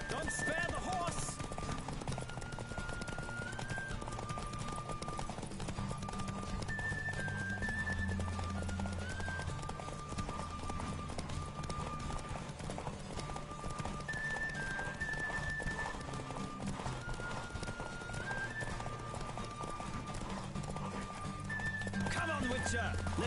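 A horse in The Witcher 3 gallops steadily throughout, its hoofbeats layered with a whinny and a game music score and a voice shouting over it.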